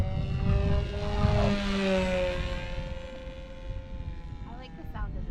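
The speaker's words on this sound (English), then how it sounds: "That's that P-40. I love this plane," Engine drone of a BlitzRCWorks P-40 Warhawk RC plane with an 1100 mm wingspan, flying on its maiden flight, steady and fairly close, with a changing tone as it passes, with people talking over it.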